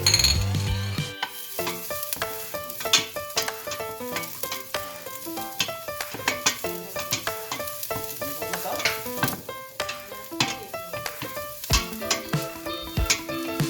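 Garlic sizzling in a hot pan for a mushroom Alfredo sauce, a steady close frying crackle stirred now and then with clinks of a utensil against the pan, no talking.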